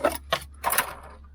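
A filter wrench being backed off the oil filter of a 2005 Hyundai Santa Fe 2.7 V6 petrol, giving three short metallic clinks and rattles spread over a second, close by and fairly quiet.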